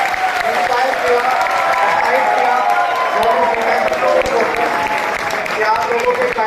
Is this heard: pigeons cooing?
no